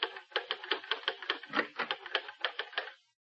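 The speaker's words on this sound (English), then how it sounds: "working at the typewriter in his study" A manual typewriter clatters in a study, a steady run of about a dozen sharp keystrokes in quick rhythm, close and clear, ending abruptly into silence.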